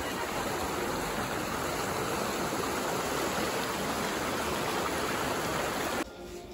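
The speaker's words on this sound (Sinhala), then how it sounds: "මේ මේ විදිහට ගලාගෙන යන වතුර පල්ලෙහාට." Water rushing downstream in a stream on a trip near Kataragama and Yala, a steady, close, full-bodied flow that runs unbroken and loud before dropping sharply near the end.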